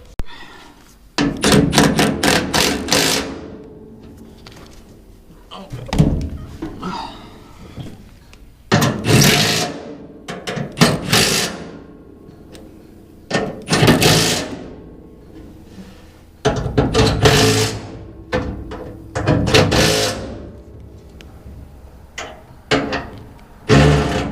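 Metal bolts are tightened on a Bandit 18XP wood chipper with a 9/16 wrench, giving loud, close bursts of rapid ratcheting clicks and clanks separated by short quiet pauses.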